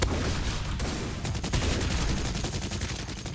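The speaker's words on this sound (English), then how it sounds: "How do these guys shoot that fast?" Video game gunfire rattles in dense rapid volleys, loud and continuous, with overlapping shots barely separated for several seconds.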